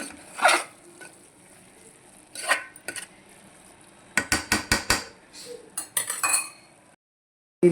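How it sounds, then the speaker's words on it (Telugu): Mutton keema with spinach frying in a pan, with a spoon repeatedly scraping and clinking against the metal in scattered bursts, including a quick run of rapid taps, over a faint sizzle. "మళ్ళీ ఇంకొంచెం ఫ్రై చేసేసుకున్నాం దీన్ని"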